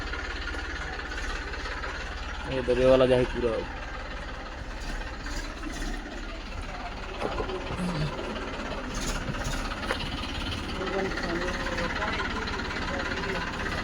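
Tractor engine running steadily near a village, a continuous low rumbling drone with louder bursts, heard under people talking throughout.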